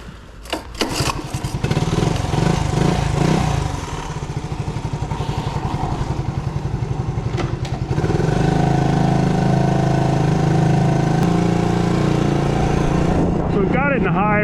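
A 1970 Honda ATC US90 three-wheeler, an original-owner barn find, cranks and fires up, then runs with a steady small-engine putter that rises in revs, close and loud, with some talking over it.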